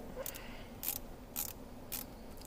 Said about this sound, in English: This is a 1/4-inch socket.